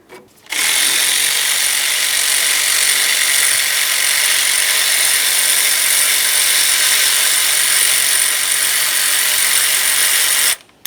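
A powered ratchet spinning out the 12mm AC compressor mounting bolts on a 2011-2020 Toyota Sienna, a loud, close, continuous buzzing whir lasting about ten seconds that starts and stops abruptly.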